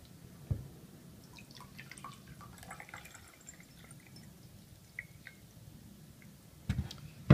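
Water drips slowly through the filter in the reservoir of a Gentoo Plus water-filter jug, making faint, sparse, irregular drips in an otherwise quiet room.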